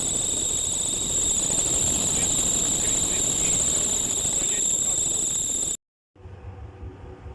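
The alternator belt on a 2008 Mitsubishi Lancer, with debris in the pulley, gives a steady, piercing high whistle over the running engine, then cuts off abruptly near the end.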